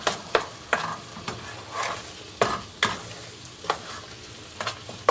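Dried coconut flakes cooking with sugar in a pan over low heat, a soft crackle broken by regular sharp spatula scrapes and taps, roughly one every half second, close and alone.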